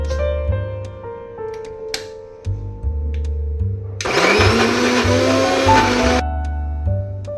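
A kitchen blender grinds spices into a thick paste, whirring in short bursts with pauses, then running loud and steady for a couple of seconds before stopping, close and alone with no voices.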